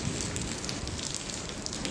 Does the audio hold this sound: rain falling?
yes